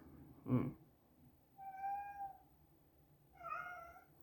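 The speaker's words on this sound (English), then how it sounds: "Sorry for the background of my cat." A pet cat meows twice in the background, each meow drawn out and moderately faint, separated by quiet room noise.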